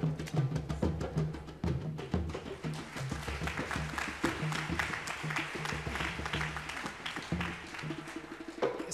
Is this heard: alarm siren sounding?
no